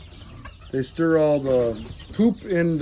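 Chickens clucking and cooing while roosting in a coop, several loud, close calls in a steady run, heard under someone talking.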